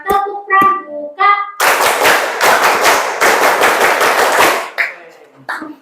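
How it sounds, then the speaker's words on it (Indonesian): A class of Indonesian students does the scout clap, tepuk pramuka: a group chant leads into a run of loud, rhythmic unison claps, then scattered claps fade out. "ku gabung menjadi 10, ku bertepuk tangan. Tepuk pramuka."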